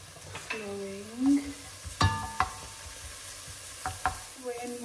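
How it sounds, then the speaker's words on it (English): Chopped onions with a pinch of salt sautéing in a pan, a soft sizzle under sharp clinks and scrapes of a utensil stirring against the pan, with a couple of brief tonal knocks and no speech. "When your onions are nice and sautéed"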